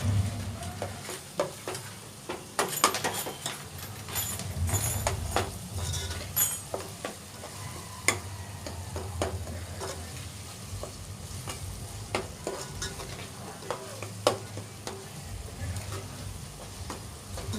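Masala fries and sizzles in a pan before tomato and okra go in. A spoon stirs and scrapes against the pan in irregular bursts over a constant low crackle, close and fairly quiet.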